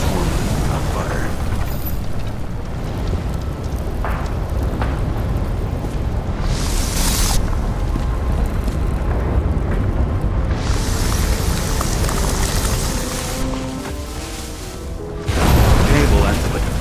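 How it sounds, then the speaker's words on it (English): Burning transformer explodes in the video game No Body Wants to Die, a dense rumbling roar with sharp bright bursts near the middle and end, loud and continuous, with a heavy low thud just after fifteen seconds. "Cable acted like a fuse. That's what caused the explosion."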